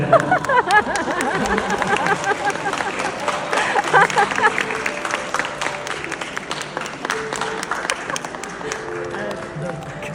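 Wedding guests applaud during the ring exchange, with a burst of clapping and crowd noise that is loudest at the start and tapers gradually, mixed with murmuring and a few voices.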